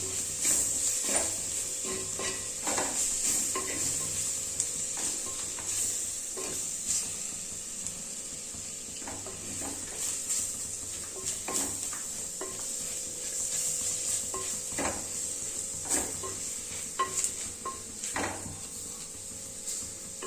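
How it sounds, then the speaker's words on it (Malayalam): Tomatoes are sautéed in a pan for a crab curry, making a soft continuous sizzle and hiss with scattered light scraping and stirring clicks from a spoon throughout, no speech. "തക്കാളിയും കൂടി ചേർത്ത് ഒന്ന് വഴറ്റിയെടുക്കണം."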